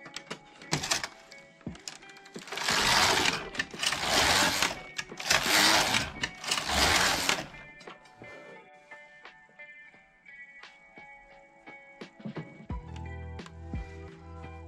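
A Passap E6000 knitting machine knits rows, its carriage making several loud, close, sustained whooshing passes with mechanical clatter, then quieter ticks and clicks as it settles, with no talking.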